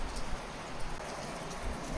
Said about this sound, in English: the rain is cooling down the area extremely, so we got our rain gear on